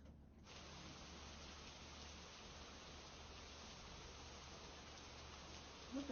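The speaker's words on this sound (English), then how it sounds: "Can you just put on like rain sounds?" Recorded rain sounds playing from a computer, a steady dense hiss of rainfall running unbroken and even for several seconds, with a brief louder bump near the end.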